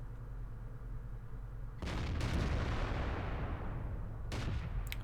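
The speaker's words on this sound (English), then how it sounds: "So I fire past the tank" The Crusader SP self-propelled gun fires in World of Tanks: a heavy boom bursts in after a low engine rumble, followed by a long rolling tail, and a second sharp report comes near the end.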